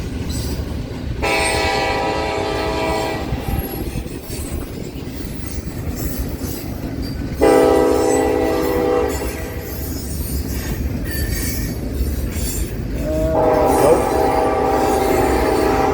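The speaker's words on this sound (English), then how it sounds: "I believe this is the coal train now, empty coal drag heading west." A long empty westbound coal train rolls past close by in Fremont, Nebraska, wheels clattering and squealing, with loud horn blasts sounding in repeated bursts.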